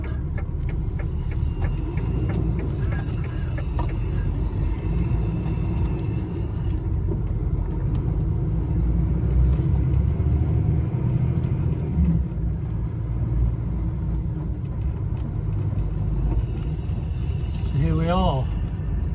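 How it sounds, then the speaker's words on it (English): A car rumbles past a waiting truck at a junction, a steady low road roar with engine drone throughout and a rising whine near the end. "Let's wait for this car to go, then we can do a left."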